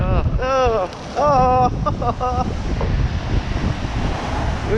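Strong wind buffeting a microphone on the stormy Blackpool seafront, loud roaring gusts with surf underneath, while someone talks over it in bursts.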